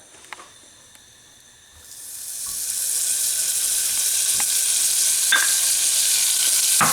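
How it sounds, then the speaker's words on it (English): Butter melts in a heated pot for butterscotch sauce, rising from near silence into a steady, broad frying sizzle that holds for several seconds, with a few faint clicks and stirs over it and no talk. "So I'm gonna use the heated pot now. So first of all, I'm gonna add the butter."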